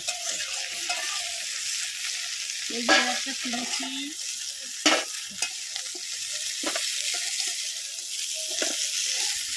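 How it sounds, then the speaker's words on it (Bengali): Steady frying sizzle hisses throughout while crab pieces are occasionally moved in the pan, with a few clacks and brief speech. "হালকা ভাজা হয়ে গেছে তুলে নেব এবার"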